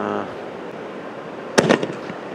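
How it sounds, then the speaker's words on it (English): A single sharp firework burst along a beach near Surfside, Texas, on New Year's, loud and crackling briefly after a quiet stretch of low background rumble. "Just sitting out and enjoying the fireworks here along the beach."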